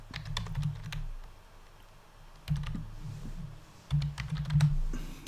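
Keys clatter on a computer keyboard as a URL is typed for a link in a Mac PDF editor, with quick close bursts of clicks separated by pauses and a low hum underneath.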